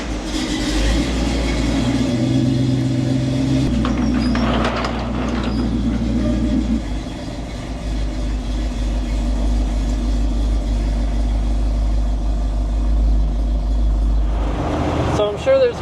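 A truck engine drones low and steady on a test drive, heard from inside with road rumble and some rattling, while people talk at times over the noise.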